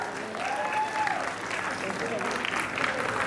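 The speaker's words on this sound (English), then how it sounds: "A round of applause." Audience applause at a prize distribution closing ceremony, steady clapping from a crowd sustained throughout, with some voices underneath.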